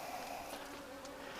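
Honey bees buzz steadily at an open hive during a close frame inspection, a dense, continuous drone of many insects heard nearby with no talk over it.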